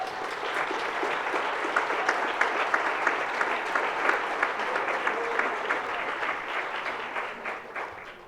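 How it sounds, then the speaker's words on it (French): An audience at a world congress on justice for children applauds the volunteers with sustained, even clapping, many hands at moderate loudness from a hall, steady for the whole stretch and tapering slightly at the end. "Je commencerai par les volontaires qui méritent tous vos applaudissements."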